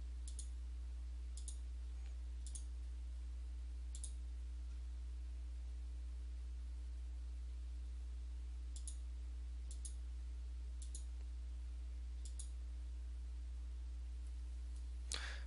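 Computer mouse clicks come in scattered single and paired taps, faint and close, over a steady electrical hum as tickets are deleted on screen, with no talking.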